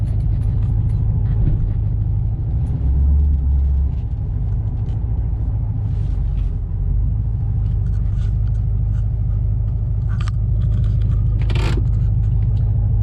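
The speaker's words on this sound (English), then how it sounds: "Just very loud driveline angle, or very loud driveline noise." Cabin recording of a car with Prothane billet motor and transmission mounts on a supercharged 6R80 drivetrain: a constant loud, low driveline rumble and drone throughout, with occasional faint rattles and clicks and no talk.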